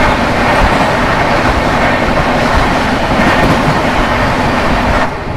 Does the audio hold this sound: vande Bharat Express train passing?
yes